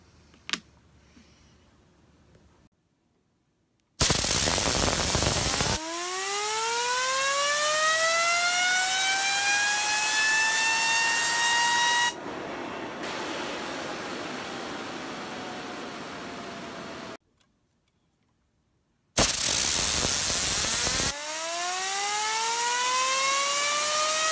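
A stainless steel fidget spinner whirring as it spins, a close steady tone that rises and holds. It stops briefly, then starts again with a second burst of spinning, with short gaps of silence between.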